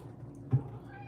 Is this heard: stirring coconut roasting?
no